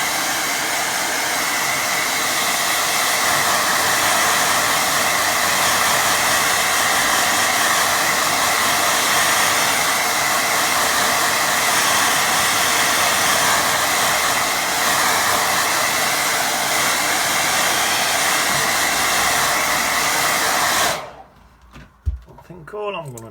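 Hair dryer drying a watercolour waterfall painting, a loud, steady blowing roar that runs without a break for about twenty seconds and then cuts off abruptly, leaving a few faint handling noises.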